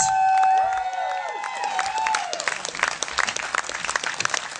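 An audience at a rally for Ryan Treat breaks into applause that builds into dense, steady clapping, with cheering and whistles rising early on.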